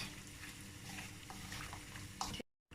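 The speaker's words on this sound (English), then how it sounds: "now I need to deep fry it until it will be in big amount of oil, until it will be dark brown" Onion pieces deep frying in a large amount of oil give a steady, close crackling sizzle that runs for a couple of seconds before cutting out briefly, with no talking.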